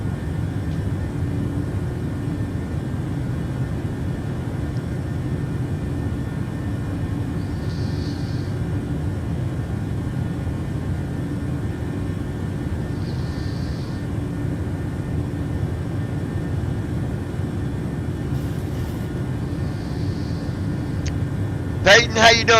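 Simulated Boeing 737-900ER climbing in Microsoft Flight Simulator 2020, a steady, even engine and airframe drone throughout, with a few faint chimes and a short clatter at the end.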